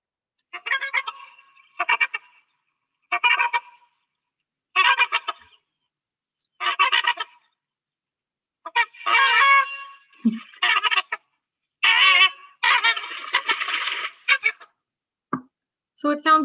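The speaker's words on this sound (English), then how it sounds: "I'll quickly play a Trumpeter Swan sound so you can compare" Trumpeter Swan calls played back, a series of loud, nasal, honking notes in short separate bursts with pauses between, some closer together and overlapping toward the end.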